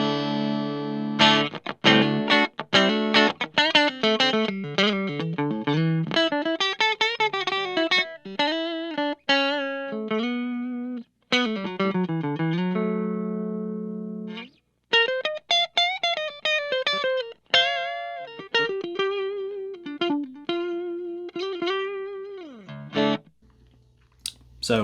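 Donner Hush-X travel electric guitar in passive mode, played on its neck single-coil pickup through distortion, a run of loud notes and chords with sudden stops and short gaps between phrases.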